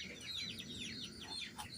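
Colour bird chickens on a poultry farm clucking and squawking in overlapping, restless calls, a dense close flock sound running throughout with a low murmur underneath.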